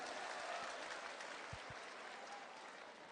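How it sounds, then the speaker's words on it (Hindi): An audience applauds during a Yuva Samvad youth event in Gwalior with a chief minister present, a dense, steady patter of clapping that fades slightly toward the end. "जोरदार ताली बजाओ इनके लिए भी"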